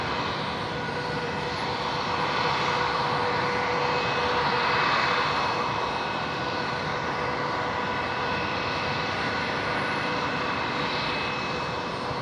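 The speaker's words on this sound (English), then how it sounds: "Qantas Link 1907 now lined up, ready to go. The Embraer off to Canberra." Embraer jet airliner engines roar steadily at Brisbane Airport as the aircraft lines up for departure, a loud, sustained broadband rumble and whine that swells slightly midway and holds without pause.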